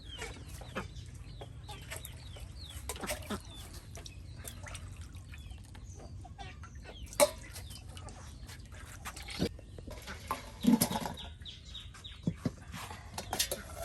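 Chickens cluck and ducks quack intermittently at a distance, with scattered louder calls over quiet outdoor background.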